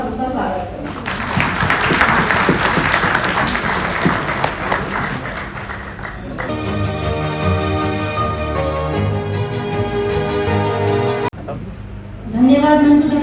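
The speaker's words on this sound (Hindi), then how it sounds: "तालियों के साथ हम सब उनका स्वागत करें।" An audience claps to welcome someone speaker onto the stage at a community event for an NGO working on education. Dense applause fills the first several seconds, then gives way to steady music.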